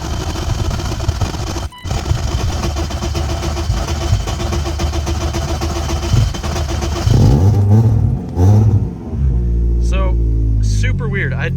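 A yellow BMW E36 engine runs loud and close, with a steady rough drone that shifts partway through into uneven revving.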